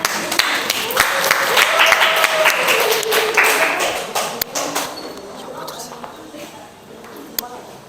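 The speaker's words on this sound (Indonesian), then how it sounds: "beri aplaus untuk teman-teman" Students in a micro-teaching economics class clap for their classmates, a scattered, lively round of applause that thins out and fades, with some talk mixed in.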